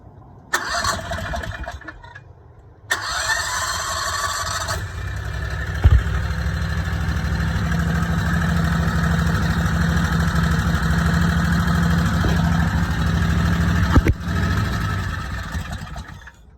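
A V-twin golf cart engine cranks and catches, then settles into a steady, loud idle close by, with a brief revving bump partway through.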